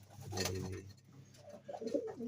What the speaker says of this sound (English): There's also a bird there.